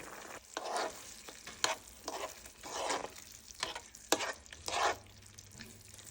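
Pork belly adobo cooks in a pan, a soft steady sizzle punctuated by a series of rhythmic stirring scrapes and sharper clatters, fairly close and moderately quiet.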